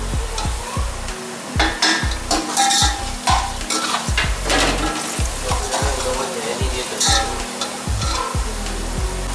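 Spices (paprika, black pepper and turmeric) sizzling and frying in a pan for mutton kabsa, a loud continuous crackle broken by repeated rhythmic scraping strokes of a spoon stirring against the pan.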